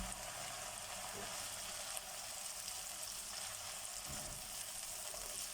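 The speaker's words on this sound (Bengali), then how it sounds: "এতে পেঁয়াজটাকে হালকা করে ভেজে নেওয়া হয়ে গেছে। এখন যে কলিজাটা কেটে রাখছিলাম ওইটা দিয়ে দেব।" Liver pieces and lightly fried onions sizzle steadily in a pan for kolija singara filling, a constant close frying hiss with faint stirring clicks and no voices.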